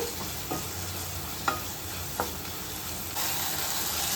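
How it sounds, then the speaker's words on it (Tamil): Onion and tomato sautéing in a pan for a Kerala-style egg curry, a continuous close sizzle broken by a few short scrapes of the stirring spoon. "நல்லா வதக்கிக்கோங்க தக்காளியும் நல்லா வதக்கட்டும்"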